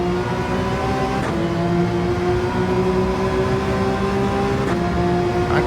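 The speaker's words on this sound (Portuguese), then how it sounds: "vou passar a segunda, upshifting, para ter mais controle do carro" A car engine in Gran Turismo 7 holds a steady droning tone, with brief breaks near the start and end as gears shift up, continuous and fairly loud.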